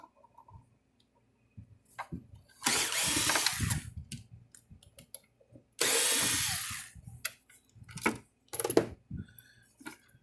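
Power screwdriver loosening T15 Torx screws on the case of a Zareba Red Snap'r Blitzer 10 Mile solar electric fence charger, two sustained whirring bursts of a couple of seconds each, separated and followed by clicks and handling knocks.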